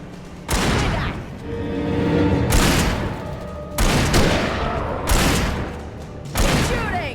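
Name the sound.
gunfire in the video game Alan Wake Remastered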